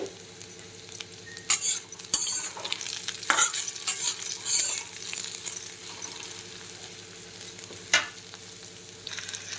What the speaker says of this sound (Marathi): तर ही भेंडी छान आपली फ्राय झालेली आहे.